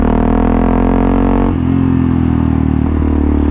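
A motorcycle's rear tyre squeals as it slides on a road, a steady high-pitched whine held over the close, continuous drone of the engine with a couple of brief shifts in pitch.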